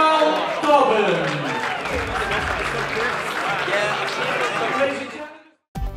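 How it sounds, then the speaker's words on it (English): A boxing show crowd applauds boxer Karl Dobbins, steady dense clapping and cheering for several seconds before cutting off abruptly near the end. "please give a round of applause for Karl Dobbins"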